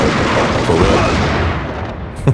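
Grenade blast in the Max Payne video game on PS2, a loud rumbling explosion that fills the whole moment with dense crackling debris, ending in a short sharp thump.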